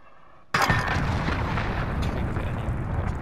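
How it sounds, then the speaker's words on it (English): An allied cruise missile strike in a video game: after a quiet moment, a sudden loud blast erupts and then rolls into a sustained, rumbling roar that fills the rest of the moment. "That's Allied cruise missile on the way"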